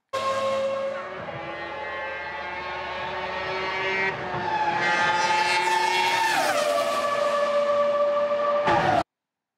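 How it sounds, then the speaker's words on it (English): A Formula One car engine screams past, its high pitched whine rising as it approaches and dropping sharply in a Doppler shift as it goes by, loud and close, heard from a spectator's position before cutting off abruptly. "here is a Formula One car illustrating this as well"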